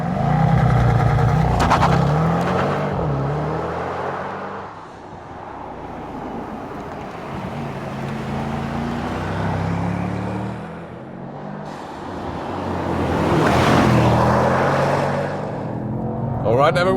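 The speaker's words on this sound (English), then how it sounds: "Here we go, racetrack driving." A Mercedes-AMG GT 63 S E-Performance hybrid four-door coupe accelerates around a racetrack, its engine droning and climbing in pitch through gear changes, steady and close from inside the cabin, with a voice talking over it.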